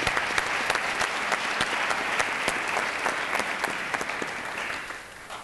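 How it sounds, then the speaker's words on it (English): An audience at a panel discussion after a film screening gives a round of applause, steady and full-bodied throughout, easing off slightly at the very end. "give another round of applause to Brian for producing a terrific movie"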